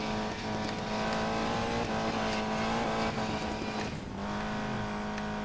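A racing car engine in the Need for Speed Payback video game holds a loud, steady high-revving drone with a sustained pitch, dipping briefly near the end before climbing again, backed by a continuous game soundtrack.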